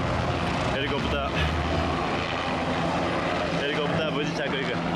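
A helicopter's rotor and engine roar loudly and steadily nearby as it lands in New York City, with a broad rumbling drone filling the background as people talk over it.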